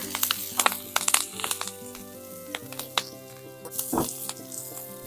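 Hot peppers and broccolini hit an oiled hot cooking surface with a bright, crackling sizzle, punctuated by sharp pops and utensil clatter close up, with no talking.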